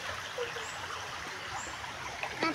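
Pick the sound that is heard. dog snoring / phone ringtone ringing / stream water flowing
stream water flowing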